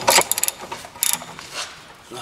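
A ratchet snugging down the 17 mm brake caliper bolts on a 2005 Honda Accord: two quick bursts of sharp clicking pawl strokes, close and fairly loud, with a softer scrape between.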